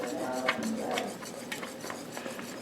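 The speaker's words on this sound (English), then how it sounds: "I'm still stirring and stirring." Banana pudding custard being stirred in a pot on the stove, a steady scraping and clinking of a utensil against the pan that repeats at an even pace, quiet and close, with no talking.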